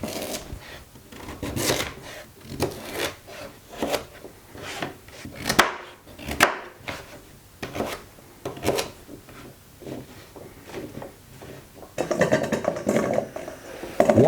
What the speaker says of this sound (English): Peel sweet potatoes and chop them into medium-sized chunks.